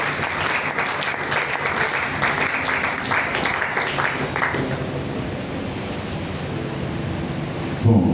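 A congregation applauds during a Thursday church service, a dense, loud wash of clapping that goes on for several seconds and then thins out toward the end.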